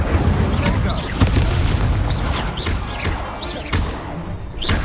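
In Hogwarts Legacy, an Incendio fire spell blasts with a dense rumbling boom amid busy combat effects, loud and continuous, with a voice calling out over the action.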